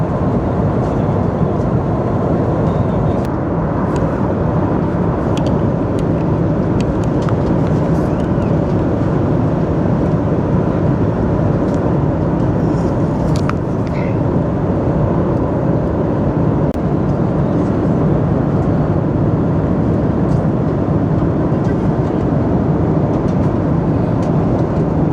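Steady, loud cabin roar of an airliner in cruise on a Srinagar to Delhi flight, a continuous broadband rumble with faint clicks and rustles over it and no speech.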